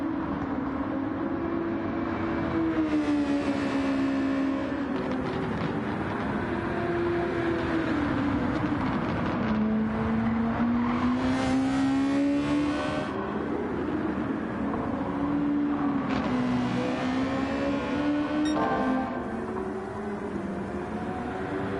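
A Formula 1 car engine howls through a race lap in long, steady pitch sweeps, rising on straights and dropping into corners and a chicane, loud and continuous throughout with no talk.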